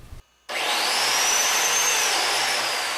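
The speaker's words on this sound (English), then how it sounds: "I need to make another biscuit slot on the side in order to receive another fastener" A biscuit joiner plunges into cherry wood to cut a slot for a step stool rail, a loud steady high-pitched whine starting abruptly after a short pause and holding evenly to the end.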